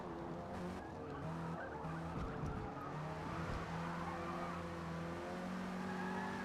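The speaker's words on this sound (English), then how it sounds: "Not gonna let a Mustang pass us." A car races on the Nürburgring as a Mustang approaches to pass, with engines droning loudly and tires squealing and skidding through a corner, the noise steady and close.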